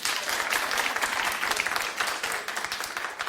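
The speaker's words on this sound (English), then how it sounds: "Clap if you've looked at Jennifer Lawrence's hacking pictures." A comedy audience claps in a dense, sustained burst that holds loud for a few seconds and then thins slightly, with no one talking over it.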